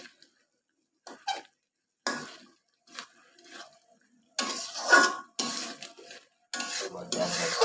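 Potatoes being stir-fried in a pot for a jackfruit and potato curry: intermittent scraping and clinking of a spatula against the pot in short separate strokes, growing louder and more frequent toward the end.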